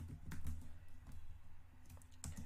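A computer keyboard is typed on to enter a pip install command. Quiet, close keystrokes come in short irregular clusters over a low background hum, with no speech.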